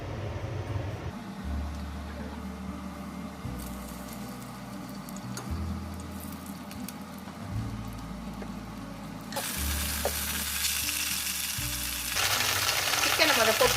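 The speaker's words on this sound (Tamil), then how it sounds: "சிக்கனை முதல்ல போட்டுருங்க. கொஞ்சம் நம்ம வந்து கொஞ்சம் லேசாக ஃப்ரை பண்ணிப்போம் முதல்ல." Chicken pieces fry in olive oil and butter inside a tagine pot, a steady crackling sizzle that grows louder and brighter toward the end, with a low hum underneath and no speech.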